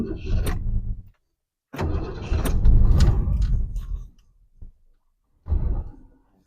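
A 1967 Lincoln engine cranks and fires after the gas pedal is pumped, with several loud starter bursts separated by short pauses, a catch and a brief run, then a last short crank.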